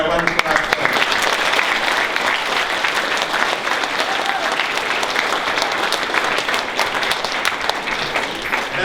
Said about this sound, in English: how about a big round of applause for our wonderful athletes